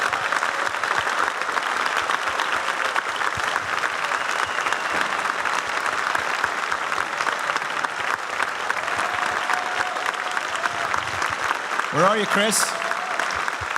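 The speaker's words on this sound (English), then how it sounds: "Can we please give a huge round of applause to Chris and Emily White?" Conference audience giving a huge round of applause, loud dense clapping from a large crowd sustained throughout, with someone briefly speaking near the end.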